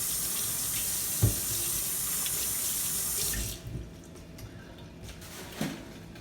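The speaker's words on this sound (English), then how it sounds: "Let me rinse my hand first." Hands being rinsed under a running kitchen tap while fish is prepared, a steady close rush of water for about three seconds, then the flow stops, leaving faint drips and small handling knocks.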